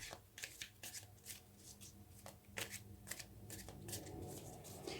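Tarot cards are shuffled and drawn by hand, giving a run of crisp riffling bursts and soft slaps at an irregular pace, close up and fairly quiet, with no talk over them.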